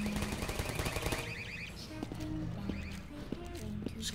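Rapid machine-gun bursts ring out in Portal, with a fast, rattling stream of shots up front that gives way to sparser clicks and thuds while someone talks over it.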